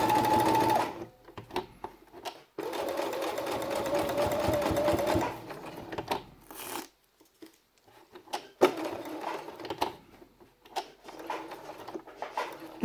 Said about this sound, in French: Et je viens coudre le mât.